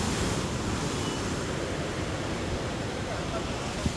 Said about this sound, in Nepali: यो समुद्रको छाल हेर्नु न अहिले